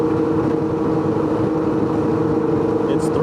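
A loud, throaty engine roars steadily nearby, a continuous deep rumble with rough texture and no breaks, from a heavily tuned sports car running on E85 fuel under throttle.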